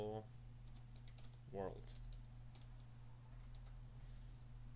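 Computer keyboard typing during a programming tutorial, a few soft clicks heard faintly beneath a spoken word and a steady low hum.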